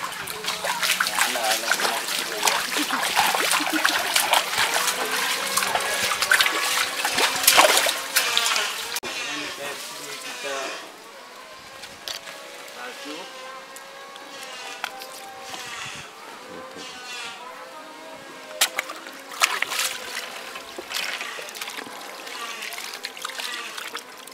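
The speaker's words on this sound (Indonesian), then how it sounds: "kita cuci dulu, kita basuh biar kotor-kotornya terbuang. Langsung kita ke air sungai." Split catfish being rinsed by hand in river water, with intermittent splashing and trickling near and moderately loud, while people talk over it.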